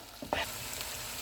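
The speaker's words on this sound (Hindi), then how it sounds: "इसको 3 से 4 मिनट तक भून लेंगे।" Chicken tikka mixture with yogurt, black pepper and salt frying in a pan, a steady close sizzle with a brief stirring scrape near the start, no voices.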